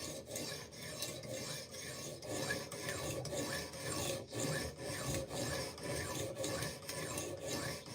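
An S30V steel knife is sharpened on PDT resin diamond stones, giving a steady, continuous gritty rasping of back-and-forth strokes, fairly loud and close, with no talking.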